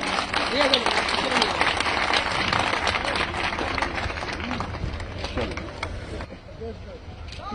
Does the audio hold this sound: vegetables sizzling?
no